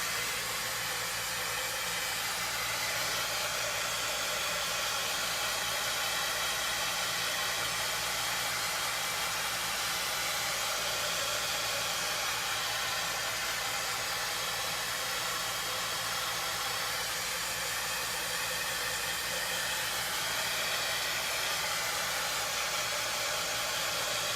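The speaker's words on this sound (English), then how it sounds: "I'm going to just come in with my heat tool, get this all dried up." An electric heat tool blows a steady, loud, broadband whoosh of hot air across fresh paint on a stencil for a 4th of July gnome project, running continuously and evenly throughout with no talking.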